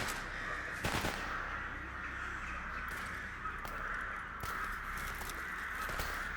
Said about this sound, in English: Hear those fucking crows.